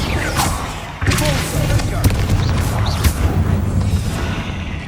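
Bombarda blasting spell going off inside a tomb in Hogwarts Legacy, a sudden booming impact followed by sustained rumbling debris and crackling, with a voice talking over it.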